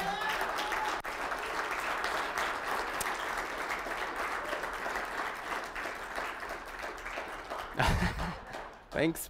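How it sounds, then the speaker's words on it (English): A conference audience applauds steadily with dense clapping for several seconds at a closing ceremony, then it fades as the room quiets. "can we get a round of applause for Bryce?"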